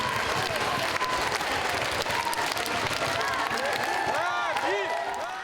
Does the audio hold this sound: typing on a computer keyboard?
no